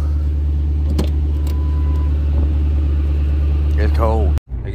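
A Lincoln Town Car engine idling just after a cold start in snow, a loud steady low rumble running throughout with a brief dropout near the end and a voice speaking over it.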